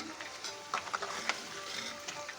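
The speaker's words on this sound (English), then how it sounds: "So our dumplings are cooking up well. I will turn the sides." Leftover dosa batter dumplings fry in a pan with a steady, quiet sizzle and a few soft clicks as they are turned, with no talking.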